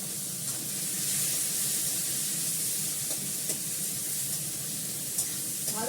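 Onion frying in hot oil left over from frying fish, a steady loud sizzle and hiss with a few faint pops, no talking.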